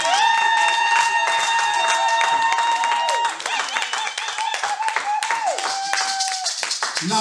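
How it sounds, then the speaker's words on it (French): A church congregation claps steadily in rhythm while sustained music or singing rings out over the clapping, which stays loud throughout. "Est-ce qu'on peut acclamer le Seigneur?"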